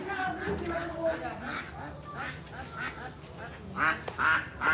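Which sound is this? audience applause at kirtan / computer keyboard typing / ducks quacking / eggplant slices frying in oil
ducks quacking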